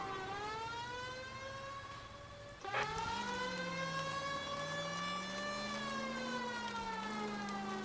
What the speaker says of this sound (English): Can hear the sirens.